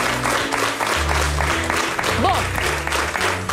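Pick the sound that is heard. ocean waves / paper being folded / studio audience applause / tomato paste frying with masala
studio audience applause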